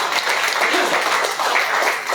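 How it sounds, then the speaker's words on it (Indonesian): A church congregation breaks into loud, sustained applause, a dense wash of clapping that holds steady without pause for about two seconds. "Yang setuju tepuk tangan bagi Allah."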